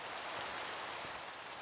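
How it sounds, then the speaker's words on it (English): Steady, faint rain falls in a Minecraft-style video game as an even broadband hiss with no breaks. "That rain appeared quite quickly."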